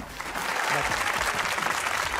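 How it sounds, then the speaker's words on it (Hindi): Studio audience applause on a comedy talk show, a loud, dense burst of clapping that fills the whole short stretch. "तालियां"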